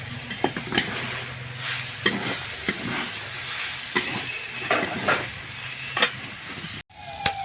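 Drumstick flowers fry in a pan with a soft continuous sizzle, punctuated by repeated scraping and clinking stirs of a spatula, ending with a brief knock.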